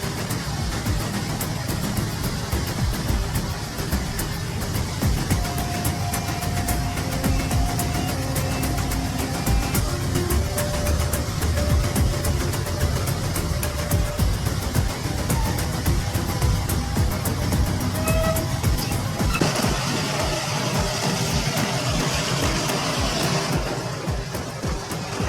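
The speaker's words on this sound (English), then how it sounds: "bulldozer, a Soviet giant, is crossing a skinny bridge barely rated for its weight" A Soviet bulldozer crosses a narrow bridge barely rated for its weight, its engine giving a steady, dense mechanical roar with clanking and grinding textures that holds throughout without pause.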